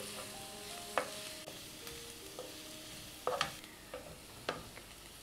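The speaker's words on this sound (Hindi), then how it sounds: "हमें इन्हें 2-3 मिनट ही फ्राई करना है।" Vegetables being stir-fried for veg fried rice: a steady sizzle under a few sharp scraping stirs of a spatula against the pan, close by with no talk.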